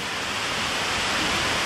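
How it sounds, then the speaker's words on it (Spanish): The second cascade of a waterfall in the Burgos countryside gives a steady, dense rush of falling water that runs unbroken and fills the whole short stretch. "La segunda cascada"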